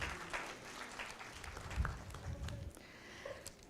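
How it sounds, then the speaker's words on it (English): An audience at a panel on South Asian regional dynamics applauds a visiting dignitary, giving soft, diffuse clapping that sounds distant and low in level, with faint murmurs mixed in. "Please applaud His Excellency."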